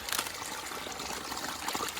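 Water runs steadily from a stream spout outdoors, a continuous close splashing trickle with no voices over it.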